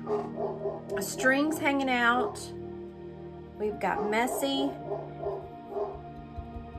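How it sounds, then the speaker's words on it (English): A pet dog barks and yips in short bursts indoors during a bottle-altering craft session, mostly underneath a person talking steadily nearby. "Again, I apologize for my dog."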